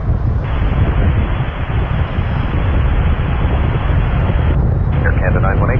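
An airliner taking off at Toronto Pearson airport, a loud continuous roaring rush with wind buffeting the microphone, while a voice talks over it near the end.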